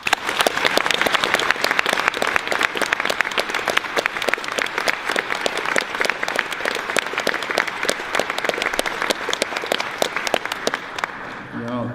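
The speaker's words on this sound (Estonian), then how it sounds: "teeme veel ühe aplausi kõigile korraldajatele" Sustained audience applause at an alumni assembly of the Jakobson school, honoring the organizers and alumni, dense steady clapping filling the hall for about twelve seconds before thinning out at the very end.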